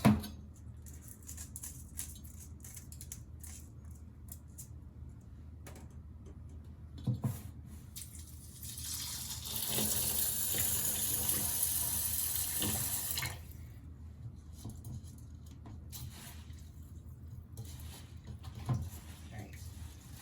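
Tap water runs into a bowl as rice is rinsed for onigiri, a steady splashing stream lasting a few seconds amid quieter handling noises and a voice speaking softly.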